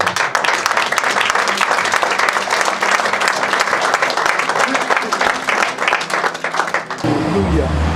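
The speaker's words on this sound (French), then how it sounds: "Acclamons le Seigneur." A church congregation applauding at a French-language prayer and healing service, loud sustained clapping that fills the space for about seven seconds before cutting off, with voices mixed in.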